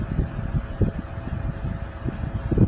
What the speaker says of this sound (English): My fan is running.